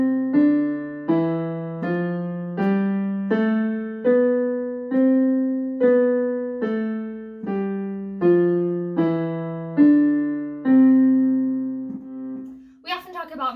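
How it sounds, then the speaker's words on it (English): An instrument plays a steady ascending and descending major scale, one sustained note at a time, loud and close, with a brief noise at the end. "Major scales are the ones we're probably the most comfortable with."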